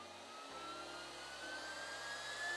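An Exway Flash Charger's cooling fan spins up to maximum speed in performance mode, a steady whooshing whir with a rising whine like a small jet engine, alone and fairly close.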